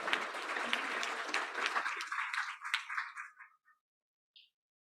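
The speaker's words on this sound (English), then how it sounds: "Can we get a big hand of applause for our panelists today?" Audience at a weekly meeting claps for panelists, a burst of steady applause that thins out over a few seconds and ends with a few scattered claps.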